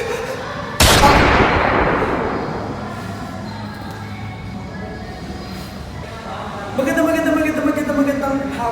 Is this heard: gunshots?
yes